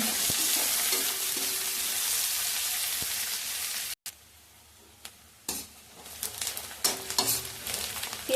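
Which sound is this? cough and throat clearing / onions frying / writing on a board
onions frying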